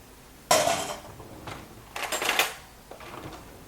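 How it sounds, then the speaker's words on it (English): A metal fork is dropped into a kitchen sink holding dishes, giving a bright clatter and a second burst of clinking a moment later, both moderately close and with no talk. "I'm going to put that in the sink and get a new fork"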